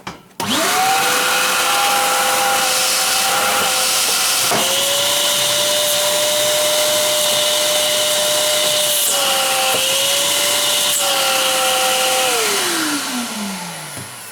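A wet-dry vacuum cleaner runs loudly with a steady motor whine and airy hiss, pitch dipping briefly a few times before spinning down at the end.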